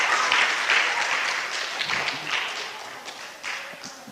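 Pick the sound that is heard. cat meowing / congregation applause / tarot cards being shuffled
congregation applause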